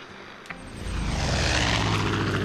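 A propeller plane piloted by Nick in Far Cry 5 drones steadily as its engine builds to a louder, sustained roar, close and without voices.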